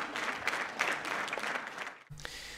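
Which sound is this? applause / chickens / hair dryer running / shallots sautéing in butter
applause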